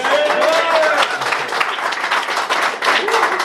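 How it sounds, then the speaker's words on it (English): A live podcast audience at the BIS fills the room with dense, steady applause for the guest, with whoops and cheering voices rising through the clapping for the full few seconds. "have a round of applause for our favourite podcast guest ever, Brian Blessed, please"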